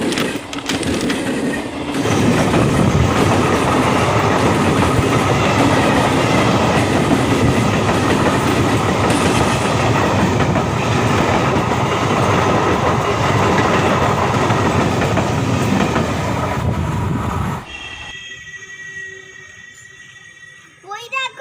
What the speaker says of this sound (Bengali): তাই ট্রেন আসছে, তাড়াতাড়ি চল